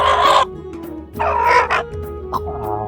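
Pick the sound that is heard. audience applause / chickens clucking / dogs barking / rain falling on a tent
chickens clucking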